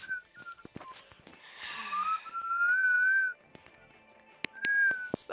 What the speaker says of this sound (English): Stop whistling, you're killing me!